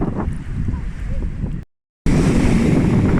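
Caribbean Sea waves off Mexico, heard from a boat, rush steadily with heavy wind buffeting the microphone and a brief dropout partway through.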